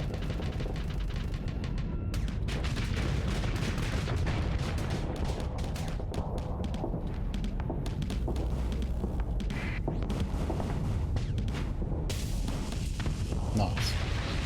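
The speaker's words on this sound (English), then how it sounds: "Let's set the heavy blaster to auto fire." Heavy blaster weapon firing on automatic in the space combat game Starsector, dense booming bursts of gunfire and explosions with rumbling impacts, continuous and loud across the whole stretch with speech mixed in.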